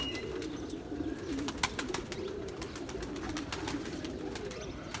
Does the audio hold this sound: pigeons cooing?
yes